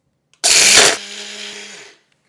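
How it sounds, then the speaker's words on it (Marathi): Mixer grinder whirs in a short burst on roasted pud chutney powder mixture, loud and close for about half a second, then winding down with a fading hum. "चला आता हे मिश्रण थोडं थोडं घेऊयात आणि मिक्सरला छान फिरवून घ्यायचं"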